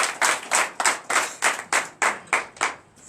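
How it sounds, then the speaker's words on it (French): Rhythmic clapping at a French-language deliverance and prophecy night service, acclaiming Jesus: about ten sharp, evenly spaced claps in a steady beat, close and distinct, slowing and fading at the end. "Donnez l'acclamation à Jésus"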